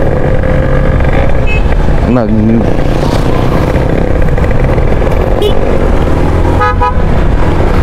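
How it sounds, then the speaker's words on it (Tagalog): A loud motorcycle horn toots sharply a few times over steady road and engine noise, with faint voices in the background. "Lakas talaga ng busina ni Primo."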